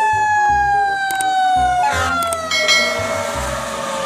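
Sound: toy fire truck siren

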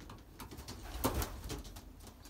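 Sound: Belgian racing pigeons at the loft

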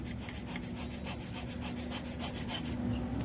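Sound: grating boiled sweet potatoes by hand

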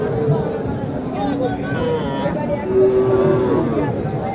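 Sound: cattle mooing at Naogaon cattle market

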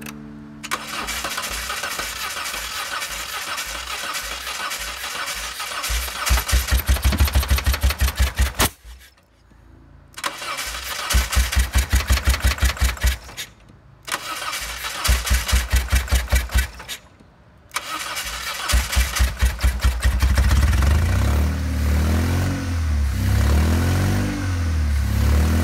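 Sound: Saturn car engine running with deactivated cylinders

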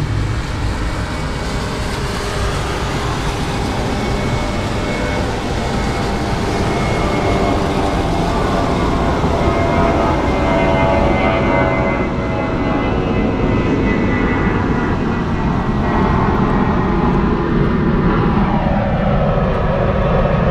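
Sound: airliner taxiing onto runway at Frankfurt Airport

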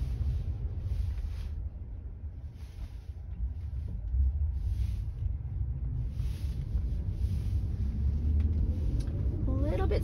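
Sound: Tesla car on FSD Beta accelerating off a stop line

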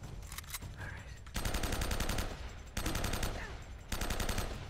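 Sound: gunfire in the video game Uncharted: Drake's Fortune

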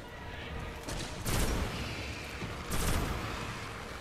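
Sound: shotgun firing in the video game Destiny

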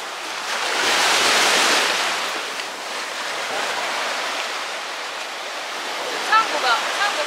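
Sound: sea waves on the shore at Kouri Island, Okinawa

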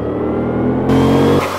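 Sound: Chevrolet Camaro engine revving in video game Forza Motorsport 5

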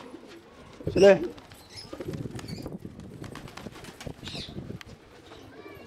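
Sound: pigeons cooing and flapping wings

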